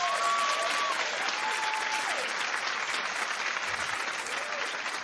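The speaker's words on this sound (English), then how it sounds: "Clap if you would watch this show." Studio audience on a daytime talk show clapping steadily and loudly, a dense continuous wash of applause with a faint voice briefly rising over it at the start.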